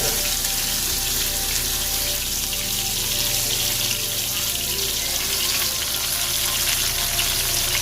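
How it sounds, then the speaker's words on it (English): Dense, steady sizzling of curry chicken wings frying in hot oil, loud and continuous throughout, with no talk. "when I'm frying the chicken"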